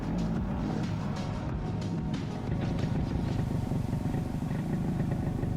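Motorcycle, a Pannonia, riding through city traffic in Kyiv, with a continuous low engine drone and road rumble close by, no voices.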